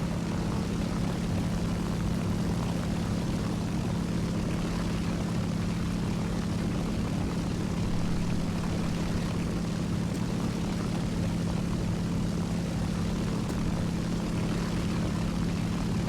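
Propeller engines of MiG-3 fighters in the War Thunder video game, a steady, continuous droning hum with a strong low tone held throughout, fairly loud and unbroken, with no talking.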